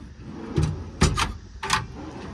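Three short sliding strokes, each a quick smooth glide with a soft metallic rumble, as tool drawers on ball bearings in a 2018 Ford F550 service truck run out and back, close by.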